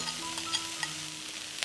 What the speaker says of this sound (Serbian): Na istu masnoću spuštam luk